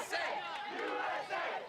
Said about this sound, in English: A huge crowd on hand here in Chichini.